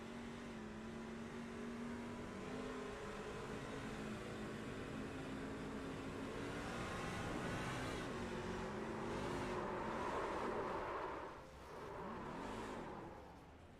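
A race truck engine in a sim racing game, heard on board while leaving pit road at Daytona, whines and climbs in pitch through the gears, then dips briefly and picks up again, loud and continuous with no talking.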